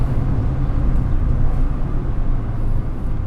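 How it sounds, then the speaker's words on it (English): A car engine drones loudly and steadily from inside the cabin during a heel-and-toe rev-matched downshift, a dense low rumble with road noise and no clear break. "Just a pure rev match right there"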